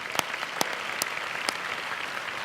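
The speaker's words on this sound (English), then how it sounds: "let's hear a round of applause for the great class of 2018" Steady applause from a seated Hall of Fame ceremony audience honouring an inducted class, an even wash of clapping with a few sharper individual claps standing out.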